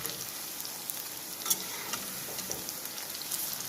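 Green onion pakoras frying in hot oil, a dense continuous sizzle with faint occasional clicks of turning, close and steady with no voices.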